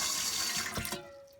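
Water from a pump-fed tap gushes and splashes steadily at close range, then tapers off briefly near the end.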